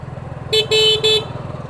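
A motorcycle riding along a village road near Beanibazar, Sylhet, with a low pulsing engine rumble throughout and three loud, close horn honks in quick succession.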